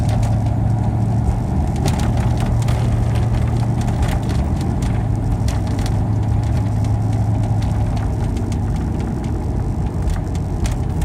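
A 1994 Ford Lightning pickup truck drives along with a steady, loud engine drone and road rumble throughout, a constant low hum dominating, with no talking.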